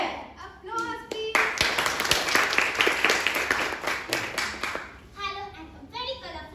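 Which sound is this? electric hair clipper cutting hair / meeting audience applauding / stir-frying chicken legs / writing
meeting audience applauding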